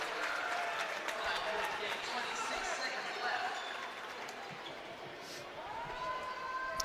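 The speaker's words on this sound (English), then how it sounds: "getting a good round of applause here from the Flyers fans as he heads to the bench" Flyers fans at a BBL Trophy basketball game against the Leicester Riders applaud a player heading to the bench, a broad crowd clapping and murmur filling the arena, with a commentator's voice faintly underneath.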